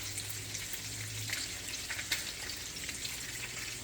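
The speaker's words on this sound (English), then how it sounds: "Excuse the noise, my husband is making bacon." Bacon frying in a pan in a home kitchen, a faint continuous crackling sizzle with occasional sharper pops, heard from a distance under low background hum.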